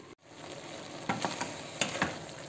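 Green beans sauté in a covered pan, with a soft, steady sizzle throughout and a few brief louder pops and crackles over the bubbling.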